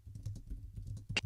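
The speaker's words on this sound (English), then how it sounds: "so I'm going to type" Fingers tapping an external keyboard while entering text into Google Docs on an iOS device with VoiceOver, a fairly quick run of soft clicking keystrokes ending in a sharper key press, no voices.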